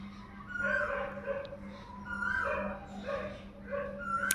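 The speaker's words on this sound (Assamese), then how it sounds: "লগতে আকৌ কুকুৰ এটাও ভুকি আছে" A dog whimpers and yips in a series of short, high, whining calls at moderate distance on a rainy day at home, with a steady low hum beneath.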